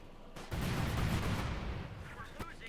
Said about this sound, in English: We got another cluster bomb call in here.